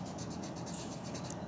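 A pen scratches quickly across paper as chemistry notes are written out, a close, repeated rubbing stroke that continues for the whole moment.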